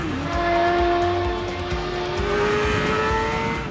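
A Formula 1 car on cold tyres turns into Copse Corner at Silverstone with the throttle nearly flat, its high engine whine steady and loud, pitch sliding slightly through the corner.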